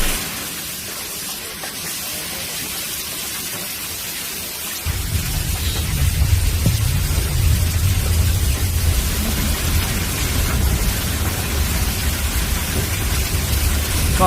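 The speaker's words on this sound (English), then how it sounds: "You also have rare hail pounding." Heavy hail pounding down during a severe storm, a dense, loud roar of impacts that starts abruptly partway through and continues steadily after quieter rain-like noise.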